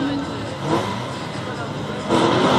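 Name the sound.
race car starting off at an autocross race start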